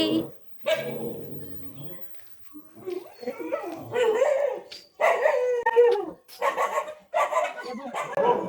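A dog barks and yelps in short bursts with some whining howls, mixed in with nearby talking.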